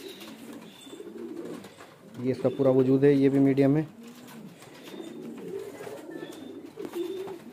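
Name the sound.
male fancy pigeons cooing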